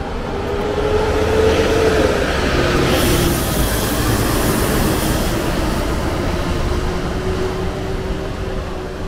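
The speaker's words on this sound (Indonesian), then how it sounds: "Pahala Kencana Jakarta Banyuwangi masuk Terminal Poris." A Pahala Kencana intercity bus with a Zeppelin body, on the Jakarta–Banyuwangi route, pulls into Poris bus terminal in Tangerang with a loud, steady engine roar and a thin, rising whine, alone with no voices.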